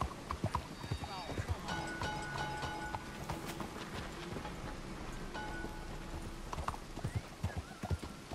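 Horse hooves clip-clop steadily in Red Dead Redemption 2, a near, rhythmic trot of many hoofbeats under soft rain-like ambience and a held musical tone, with someone talking over it at times.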